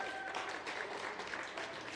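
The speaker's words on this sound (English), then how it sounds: "Round of applause." A crowd at a youth sectional event applauds for athletes advancing to the championship, a steady distant wash of clapping and cheering lasting the whole moment.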